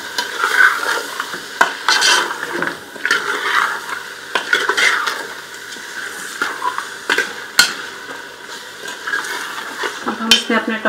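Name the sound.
spices being sautéed in a pan for mutton curry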